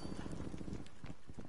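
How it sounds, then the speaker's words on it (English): Horse hooves in Call of Duty Cold War, a rapid, rhythmic patter of hoofbeats buried in a dense, noisy game mix, heard briefly and without clear speech. "Horse."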